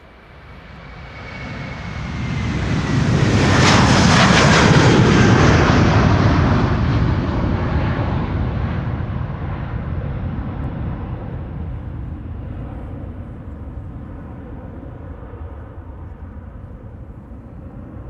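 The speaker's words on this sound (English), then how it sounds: "This is Delta Airlines Flight 75 going to Atlanta," A Delta Air Lines Airbus A330-300 jet bound for Atlanta passes close by at Amsterdam Schiphol, a loud roar swelling quickly with a descending whine, peaking early and then fading slowly into a long rumbling tail, with no talking.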